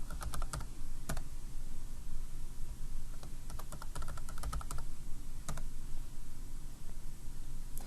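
Steady typing on a computer keyboard, a run of quick close clicks with short pauses, set against a faint background hiss and no talking.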